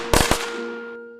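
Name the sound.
firecrackers exploding for New Year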